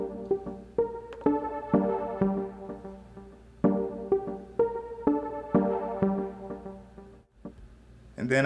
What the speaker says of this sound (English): On this first track, I used a tube synth plugin,